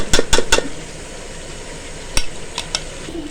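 Spoon stirring spices into mutton biryani in a pot: a quick run of three sharp metallic scrapes and knocks, a pause, then a few lighter clinks against the pot, close and clear over a faint background hiss.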